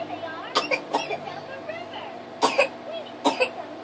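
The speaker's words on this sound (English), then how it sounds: "she's coughing" A woman coughs in short bursts, two quick coughs early, another single cough, then two more paired coughs near the end, close by, with faint chatter and room noise behind.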